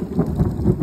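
Heavy rain pours down while a deep thunder rumble rolls underneath, a short, loud burst of low, pulsing roar.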